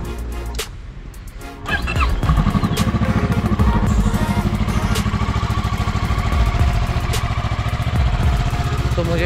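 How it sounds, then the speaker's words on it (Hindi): A motorcycle cold-starts after a short quieter stretch and settles into a steady, close, rhythmic idle as it warms up, ahead of a solo ride from Itanagar to Ziro. "अपनी बाइक्स को वार्म अप करते हैं।"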